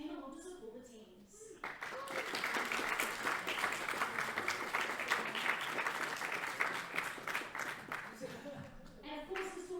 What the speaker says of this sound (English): should be a round of applause for everybody who played today